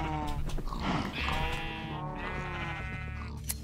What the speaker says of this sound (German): Ich rasiere jetzt mal Nefis Schafe hier, ey